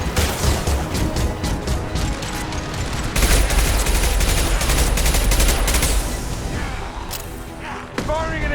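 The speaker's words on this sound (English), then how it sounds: "Firing an impact shot." Combat gunfire in the Mass Effect 2 video game, with a dense run of loud shots and booms, including a heavy impact-shot weapon, fired up close over several seconds, then trailing off near the end.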